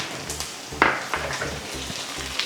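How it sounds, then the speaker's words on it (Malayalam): Dried red chillies, sliced shallots, curry leaves and chopped ginger fry in hot oil for a cucumber kichadi, giving a steady close sizzle with a few sharp spits and soft stirring clinks. "ഇനി നമുക്ക് നന്നായി കറിവേപ്പിലയും വറ്റൽമുളകും ഇഞ്ചിയെല്ലാം നന്നായിട്ട് മൂപ്പിച്ചെടുക്കാം."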